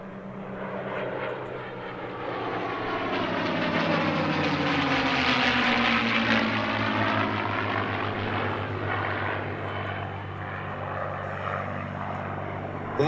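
Two P-51D Mustang propeller warbirds pass at an airshow, their piston engines swelling into a loud, rich drone that peaks overhead, then slowly fades as they move away.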